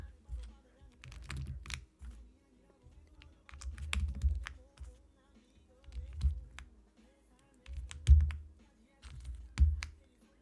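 Typing on a Meletrix Zoom64 mechanical keyboard fitted with tactile switches, quiet close clacks in short uneven bursts with a few heavier thocks, no speech over it.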